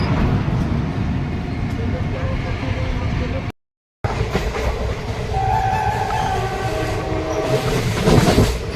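The Visakhapatnam–Bhubaneswar Intercity Express rolls into Vizianagaram station with a loud, steady rumble of wheels and carriages, heard from on board and broken by a brief dropout, with a horn-like tone midway and some nearby talk.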